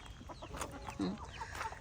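A hen clucking softly nearby, a few short calls over quiet outdoor background.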